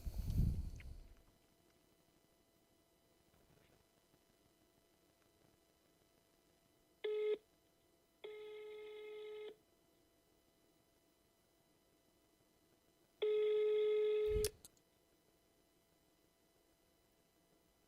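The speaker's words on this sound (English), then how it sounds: "That's a phone ring?" A telephone produces a few steady electronic ringing tones, one short burst and then two longer ones separated by silence, clear against a quiet background.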